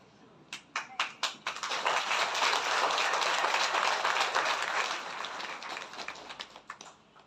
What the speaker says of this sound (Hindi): अन्यथा बजा दो, ताली बजा दो।